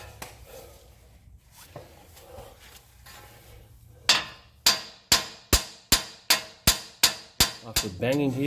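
Quieter workshop shuffling and faint knocks give way to a run of about nine loud, close metallic hammer blows at a steady pace. They are struck on a suspension part of a 2020 Toyota 4Runner with KDSS fitted with an Ironman4x4 front lift.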